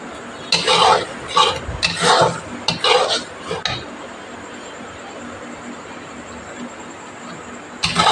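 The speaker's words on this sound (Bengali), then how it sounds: "এবার চিনিটা ঢেলে দেবো।" Sugar poured into a cooking pot on a home stove: a few bursts of grainy, gritty scraping and stirring over steady background hiss, then a long quiet stretch with a brief clatter at the end.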